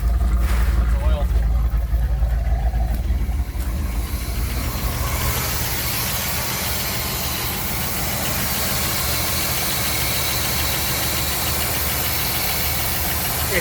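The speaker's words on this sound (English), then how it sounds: "It's smoothing out better. It's idling smoother." 1977 Pontiac Trans Am engine runs at a steady, rough idle, slightly rich, a dense continuous rumble with constant low mechanical noise throughout, while someone talks over it early on.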